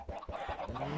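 Chickens cluck in a stretch of Minecraft farm play, with several short, repeated calls close by and fairly loud, overlapping in a steady run.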